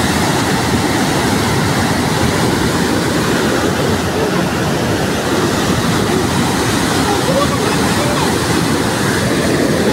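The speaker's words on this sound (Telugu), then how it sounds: "నిండు కుండ లెక్క మారిన నిజాం సాగర్ గేట్లు ఎత్తారు" Water pours from the opened gates of the Nizam Sagar dam in a constant, loud, dense roar that never lets up, heard close with wind buffeting the microphone.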